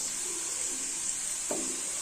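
Peanuts sizzle steadily as they fry in a pan for a spicy masala peanut snack, a constant bright hiss with one brief scrape of stirring partway through.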